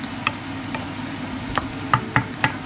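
Onion sautéing in a pan for an ampalaya dish: a continuous low sizzle broken by several light, scraping stirs of a utensil against the pan, close up with no voices.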